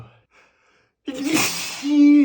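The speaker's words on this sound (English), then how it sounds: "The cold air makes me sneeze." A single sharp sneeze bursts out after near silence, loud and close, followed by a voiced exhale, in an elevator setting.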